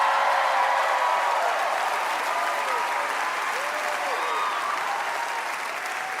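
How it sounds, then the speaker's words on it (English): A comedy club audience breaks into loud, sustained applause and cheering, a dense wash of clapping that carries on for several seconds, with some voices calling out through it. "This is where you guys should applaud and go crazy."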